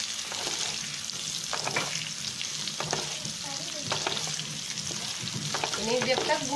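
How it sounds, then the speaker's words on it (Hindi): Potato pieces frying in oil in a kadhai for dum aloo, a continuous bright sizzle with occasional stirring scrapes and small crackles throughout. "देखिए, ये जो हमारा आलू है वो फ्राई हो चुका है।"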